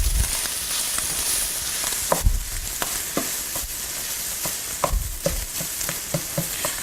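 Sausage frying in a pan gives a steady, dense sizzle throughout, dotted with frequent small pops and crackles, heard alone with no talking.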